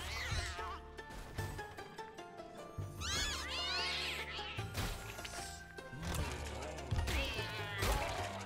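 A cat meows several times in the horror video game Don't Die, Minerva!, the cries rising and bending over dark in-game music and noise, with a voice heard at moments.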